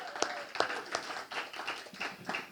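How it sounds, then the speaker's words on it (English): A small group claps after a lecture presentation, a handful of separate, loose claps with uneven rhythm, fairly close and moderate in volume. "I'd like to give an applause to Dr. Havlicek and his presentation."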